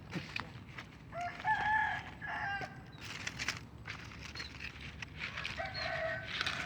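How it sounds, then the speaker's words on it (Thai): Several roosters crow in turn, one after another, over a steady outdoor background murmur, some calls nearer and louder than others. "นี่ไก่ขันรับกันแล้ว"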